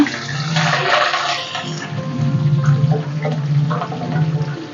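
Green chillies fry in hot oil, giving a steady close sizzle and bubbling for a few seconds with no talk.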